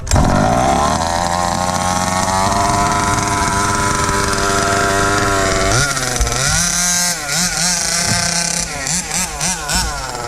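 Rovan Baja 5B gas RC car engine running on standard gears, loud and close, holding a high buzzing rev before dropping and surging in quick throttle blips.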